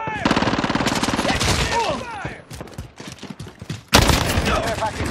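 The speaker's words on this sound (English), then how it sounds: "Sentry gun active. Take fire!" Rapid automatic gunfire from a sentry gun in the Call of Duty Black Ops video game, dense bursts at the start, sparser shots in the middle, then a loud renewed barrage near the end, with game voice callouts mixed in.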